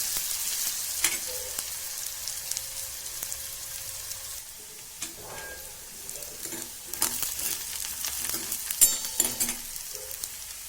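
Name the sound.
onion frying in a pan for spinach bhaji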